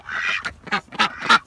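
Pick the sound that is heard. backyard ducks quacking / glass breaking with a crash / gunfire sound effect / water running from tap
backyard ducks quacking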